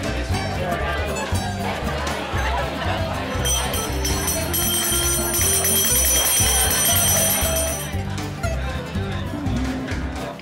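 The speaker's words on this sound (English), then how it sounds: "When you hear this bell, it means you're going to be rotating." A bell signals the rotation at a vegetarian speed dating event in Berkeley, ringing in a sustained burst of a few seconds over the loud chatter of a crowded room.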